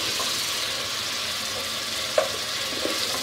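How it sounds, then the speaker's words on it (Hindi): Garlic and ginger paste fries with potato and eggplant in a pan, giving a steady close sizzle with occasional stirring scrapes and small knocks, and no talk. "और अब हम इसमें लहसुन का और अदरक का पेस्ट डाल के अच्छी तरह इसे भूनेंगे"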